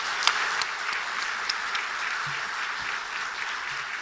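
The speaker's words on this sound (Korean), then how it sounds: "다시 한번 뜨겁게 한번 박수 하십시다." A church congregation at a Sunday worship service applauds warmly, a steady wash of many hands clapping that holds evenly for several seconds, with a few sharper claps standing out near the start.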